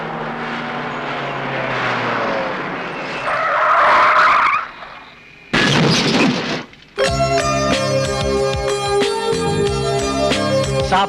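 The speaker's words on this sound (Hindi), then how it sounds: "साहब, पीछे वाली गाड़ी ने ठोक दिया।" A car skids with a long screech, then a short loud thump as the car behind hits it, followed by a burst of music; the impact sits close and loud.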